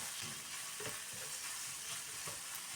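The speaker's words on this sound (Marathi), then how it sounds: "लसूण आणि मिरची बारीक करून घेतलेली. गॅस कमी करून परतून घेऊया" Garlic and green chilies sautéing in a pan over a medium gas flame, a steady close sizzle with soft stirring scrapes throughout and no talk.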